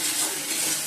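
Spices sizzling steadily in hot oil with cumin seeds, onion, ginger paste, green chilli, tomato and ground cumin and coriander, a close, continuous hiss without talk.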